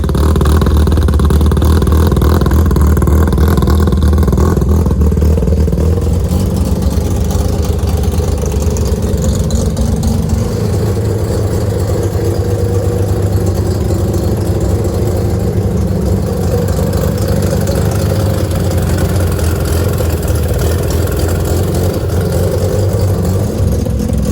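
A Mazda Savanna RX-7 FC running on its first drive after restoration, a loud, continuous close-up engine drone with steady low rumble and slight shifts in pitch as it idles and pulls along.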